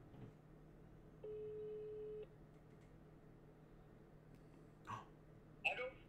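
A phone tone sounds once for about a second, faint and steady in a quiet room, followed by a brief rustle and a short vocal noise near the end.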